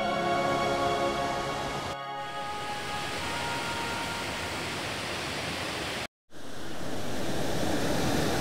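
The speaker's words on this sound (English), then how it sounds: "I'm not really sure if you can actually hear properly because of the noise of the weir" Water rushes loudly over a river weir in a constant, dense roar close by, with a brief dip and a short near-silent dropout partway through before the roar resumes at full strength.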